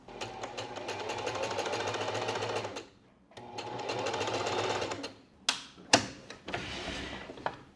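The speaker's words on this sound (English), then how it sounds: "I'm going to take this extra seam and I'm going to be sewing it onto the back flap" A sewing machine stitches an extra seam onto the back bodice flap of a top, with two sustained rapid whirring runs separated by a pause, then clicks and short bursts as the fabric is handled.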